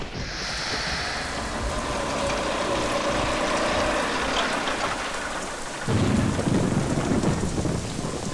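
Heavy rain pours down steadily with deep rolling thunder, a dense hiss of drops on surfaces that swells louder toward the end.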